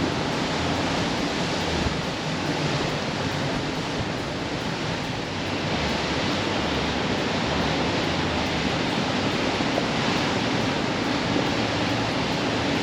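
St. Anthony Falls on the Mississippi River roars steadily, a loud, unbroken broadband rush of falling water with no voices and no change in level throughout.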